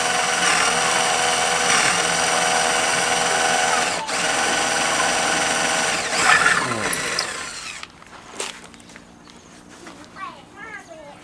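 A power drill bores into concrete formwork for a reinforced-concrete lintel, its loud, steady motor whine running for several seconds before it stops, leaving faint scraping and handling noises.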